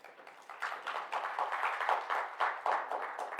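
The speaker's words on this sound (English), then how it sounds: "Welcome with a round of applause." An audience at a stakeholders conference gives a round of applause to welcome a speaker onto the stage: fairly quiet, scattered clapping in uneven bursts with no talk.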